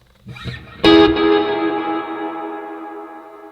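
A plucked electric guitar chord through a Line 6 Helix, washed in reverb and repeating delay echoes that slowly fade into a long tail.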